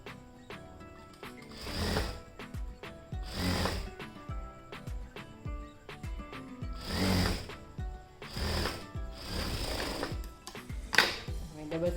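Sewing machine stitching a kurti in bursts of rapid mechanical whirring and clatter, several short runs separated by pauses, close and fairly loud.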